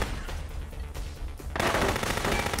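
Automatic gunfire from the video game Rogue Warrior, a steady rattling burst that swells louder and denser partway through, continuous over a low rumbling backdrop.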